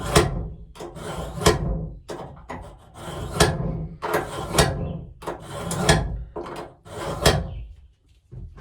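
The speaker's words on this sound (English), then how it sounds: "I'm going to sharpen my knife" A knife is sharpened at an outdoor fish cleaning station before cleaning a largemouth bass, with repeated rasping strokes in an uneven rhythm, close and fairly loud, with no talking.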